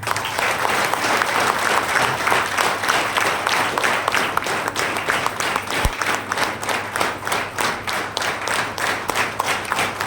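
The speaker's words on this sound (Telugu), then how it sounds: "ఒకసారి దాస్ గారి క్లాప్స్ ఇవ్వండి" A seminar audience at a Vestige business training meeting applauds loudly for a colleague, with many hands clapping in a fast, even, almost rhythmic beat that holds steady for about ten seconds, along with one sharp thud midway.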